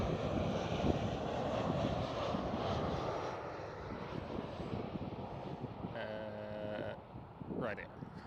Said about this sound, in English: And we're back again with a KLM 737.